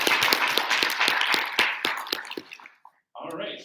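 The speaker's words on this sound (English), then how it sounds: "So why don't we give another round of applause for Dr." Applause at a student senate meeting: a crowd claps in quick, crisp bursts that thin out and stop after about two and a half seconds, followed by a brief silence and then a voice.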